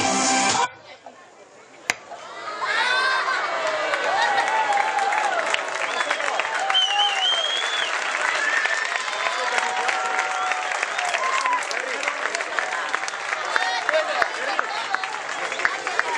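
Audience at a playback singing show in Lakuntza, 2012, bursts into sustained applause with scattered cheers and crowd voices, a dense clapping wash that carries on strongly after a brief cut near the start.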